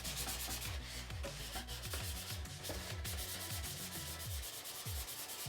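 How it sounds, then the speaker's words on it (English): Steady hand sanding of primer on a Carl Goldberg Extra 300 model airplane, a continuous close scratchy rubbing with repeated back-and-forth strokes and no voices. "So anyway, I'll start sanding here,"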